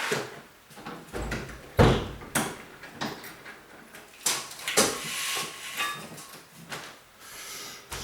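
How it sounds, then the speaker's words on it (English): Indoor door being shut during a hot spell, with several knocks and a firm thud partway through, plus lighter clicks and rattles around it. "I need to close my door."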